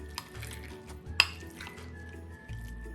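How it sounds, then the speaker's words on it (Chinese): Washed, drained pressed tofu mashed into a paste with a masher in a large mixing bowl, soft irregular pressing sounds with a few sharp clinks of metal against the bowl, close and quiet. "用个捣碎器继续捣成泥状。"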